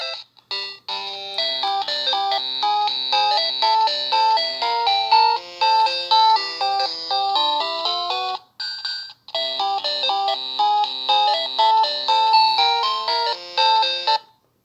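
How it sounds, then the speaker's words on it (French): A bright electronic chiptune melody of rapid beeping notes, the Super Mario Land tune from a Nintendo Game Boy alarm clock, plays loudly and alone, briefly pausing midway before resuming. "on a bien l'alarme, le son de Super Mario World, Super Mario Land"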